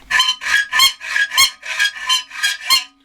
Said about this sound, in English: we're getting lots of chatter.